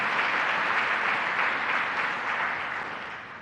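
An audience at a Central New York child care announcement gives a sustained round of applause, a dense, even roar of many hands that eases off slightly toward the end.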